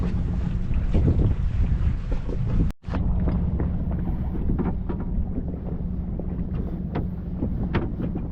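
A sailboat underway in the San Juan Islands in fall, with heavy wind buffeting and rumbling constantly over the water alongside scattered splashes, the noise briefly cutting out once before resuming.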